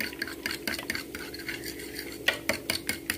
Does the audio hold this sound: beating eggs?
yes